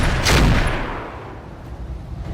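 Heavy autocannon and Gauss rifle fire from the BattleTech video game: a loud, chunky blast near the start with a booming low-end body, decaying into a rumbling tail over the next couple of seconds.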